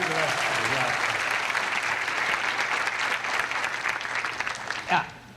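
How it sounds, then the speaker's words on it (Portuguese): Studio audience applause on a Brazilian television talk show, a dense, loud, sustained clapping that fades out near the end. "Palmas para ele."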